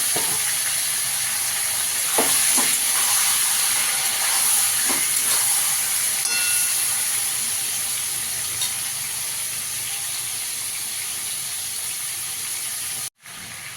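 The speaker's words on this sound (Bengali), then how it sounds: "চিকেনটাকে একটু ভেজে নেবো।" Chicken pieces frying in a pan for masala chicken give a steady, loud hiss and sizzle throughout, with faint crackles, and the sound cuts off abruptly near the end.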